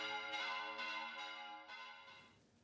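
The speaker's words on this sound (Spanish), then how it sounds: "Las iglesias hicieron sonar sus campanas en homenaje a las víctimas" Church bells in Chile ring in tribute to pandemic victims. Several clear, resonant strikes come at an even pace, faint and distant, and the last one fades out slowly.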